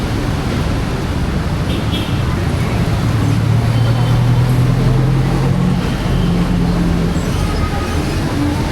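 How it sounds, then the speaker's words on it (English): Dense, steady street traffic roars outside the Victory Liner bus station in Manila, with engines rumbling and a constant wash of road noise. No clear horns or voices stand out. "This is bus station, Victory Line."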